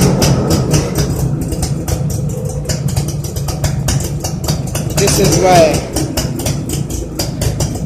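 A Suzuki AX 100 motorcycle, freshly rebuilt, idles steadily through its silencer with a continuous rapid two-stroke putter, loud and close, while a voice talks over it.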